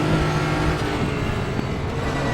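A Nissan GT-R GT3 race car engine in the RaceRoom racing game at the Nordschleife, a loud, continuous guttural strain at high revs with a steady roar throughout and no talking.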